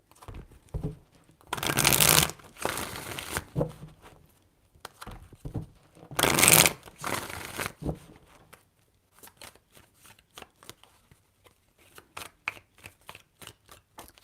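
Tarot cards shuffled by hand in several bursts, two louder riffling passes followed by lighter, scattered taps and slides of cards near the mic, with no talking.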